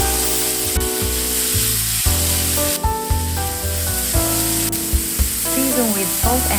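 Minced beef fries in a tablespoon of oil over medium heat for Japanese croquettes, a steady close sizzle with the crackle of stirring throughout and no talk.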